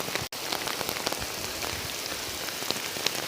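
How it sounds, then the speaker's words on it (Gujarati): Steady rain falling on the ground and surfaces during a long downpour where cows graze, a dense even patter with scattered nearby drips, loud and continuous. "તો વરસાદ ચારનો ચાલુ છે લગભગ કલાકથી તો પાછું પડવા નામ નથી લેતો"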